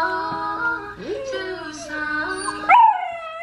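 A puppy howls and whimpers along with music playing nearby, wavering drawn-out cries rising and falling, ending in a louder high-pitched yelp, with faint background tones underneath.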